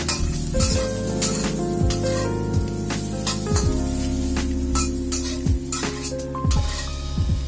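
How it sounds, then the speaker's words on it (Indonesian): Ginger and onion sautéing in a pan for a beef dish, a steady close sizzle with occasional scrapes and stirring clinks of a utensil against the pan, no talking. "Tumis jahe dan bawang bombay sampai berbau harum atau sampai"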